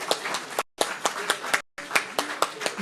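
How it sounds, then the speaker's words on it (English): A dinner event audience claps for performers, brisk rhythmic clapping close by, broken by two brief silent gaps, with faint voices underneath. "please give our performers another big round of applause"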